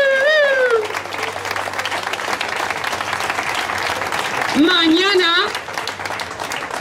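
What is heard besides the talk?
applause at a protest gathering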